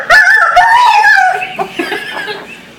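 A voice imitates a crowing rooster hit by a thrown shoe, a loud strained squawking cry that breaks off into choppy, fading yelps.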